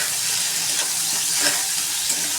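Pumpkin pieces seasoned with turmeric and salt fry in a pan, giving a close, dense, even sizzle with soft stirring swishes throughout and no voices.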